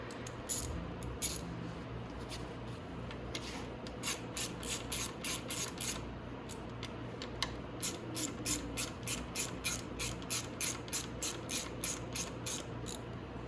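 A ratchet tightens the brake assembly bolts on a Venom Thunder 125cc dirt bike, clicking in quick, even bursts of rapid pawl ticks close up, with brief pauses between strokes and no talking.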